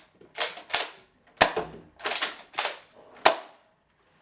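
A Nerf Rival Kronos blaster fires through a chronograph, giving a series of sharp, close snapping shots, two quick pairs and then single cracks, with short gaps between them and no talking.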